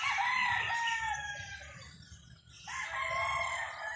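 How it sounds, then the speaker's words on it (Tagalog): Many chickens at a rooster venue, roosters crowing in long overlapping calls with clucking, loud and close, in two bursts separated by a short lull. "Ayan, ang daming manok."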